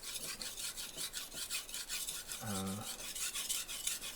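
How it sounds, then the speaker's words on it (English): A steel knife blade rasps across a brick in steady back-and-forth strokes, a gritty scraping rhythm heard up close and fairly quiet, with one brief tonal squeak midway. "I'm really hoping that I can get a sharp knife from this brick here"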